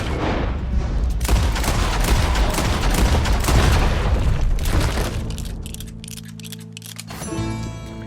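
Gunfire in the Red Dead Redemption 2 video game: a dense barrage of loud, booming shots fills the first several seconds, then fades into a quieter ringing tone.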